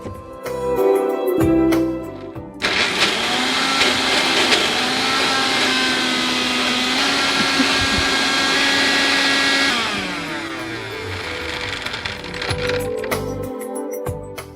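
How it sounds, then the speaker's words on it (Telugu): A mixer grinder grinding dates whirs loudly for several seconds, its motor droning steadily before winding down, with brief clatter at the start and end. "సో దీన్ని మిక్సీ పట్టేసుకుందాం."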